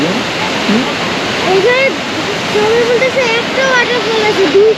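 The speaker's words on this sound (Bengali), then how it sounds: "এই ওইখান থেকে জল পড়তেছে এরপর আরেকবার জল পড়তেছে দুইটা ওয়াটার দুইটা ফলসের একদম কাছাকাছি চলে আসছি" Close to a pair of waterfalls near Pokhara, Nepal: a loud, constant roar of falling water fills the whole stretch while people talk over it.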